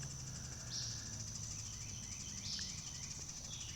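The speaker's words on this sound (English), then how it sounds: "All you hear is the birds." Faint evening chorus of high, repeated chirps and trills, with a steady insect-like hum underneath and a few distinct whistled calls, distant and calm.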